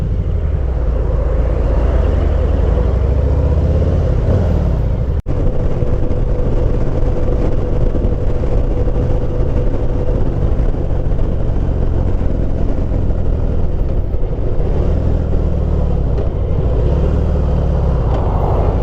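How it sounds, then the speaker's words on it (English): A Harley-Davidson Heritage Classic with a 114CI engine, engine braking while riding, gives a loud, continuous low rumble with gently rising and falling engine pitch and steady wind noise, with no talking. "Perfect engine braking, so fluid, very fluid."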